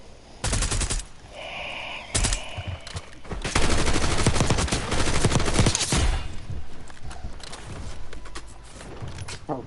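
Gunfire in the video game Warzone, loud bursts of automatic fire and single shots, closely spaced and dense through most of the stretch.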